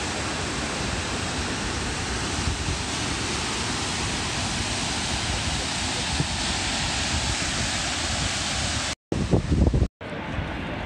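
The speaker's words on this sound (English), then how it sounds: "There's a waterfall." Gibbon Falls waterfall gives off a dense, continuous rush of falling water, loud and steady, broken by two short gaps near the end.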